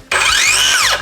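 A Dnipro-M DSC-201BC left-hand cordless circular saw blade whirs up loud and close, then winds down in a falling whine to a stop within about a second.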